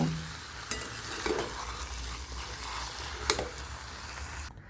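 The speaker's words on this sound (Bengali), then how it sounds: "হালকা হাতে একটু নাড়িয়ে চাড়িয়ে" Pumpkin chhokka curry stirred gently in a pan, a soft continuous scraping and shuffling with a few sharper utensil taps against the metal, close and moderately quiet, with no talking.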